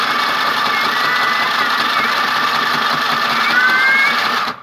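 A portable sewing machine runs continuously, a loud, close, steady mechanical whir with fast buzzing stitching that holds for several seconds before stopping abruptly.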